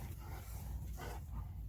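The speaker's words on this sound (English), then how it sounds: "What are y'all barking at?" Several dogs barking at a distance, muffled yaps and woofs running together over a low rumble of background noise, with no clear pauses.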